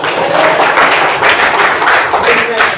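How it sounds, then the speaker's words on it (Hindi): A small audience claps along at a Hindi poetry recital, a dense, steady patter of hands lasting a few seconds, with voices mixed in underneath. "और तालियां तो बजाओ यार।"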